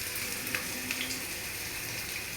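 A large catla fish fries in hot oil in a frying pan, giving a continuous, even crackling sizzle at a soft level with no talking.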